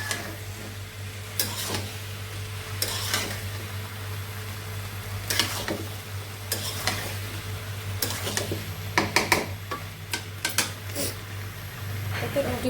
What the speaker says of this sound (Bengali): এই যে আমি রুটি ভাজা হচ্ছে